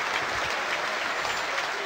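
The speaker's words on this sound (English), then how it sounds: "it is a standing ovation for the prop forward" A rugby crowd at a Northampton Saints versus Sale Sharks Premiership match gives a standing ovation for a departing prop forward, dense sustained applause filling the stadium evenly throughout.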